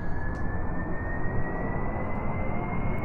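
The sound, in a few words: rocket engine throttling up in Kerbal Space Program video game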